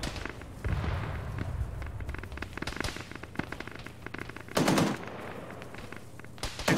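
Gunfire crackles across a military shooter battle in Arma, with sharp single shots and rapid automatic bursts at varied distances, a couple of loud close volleys standing out, and no voices heard.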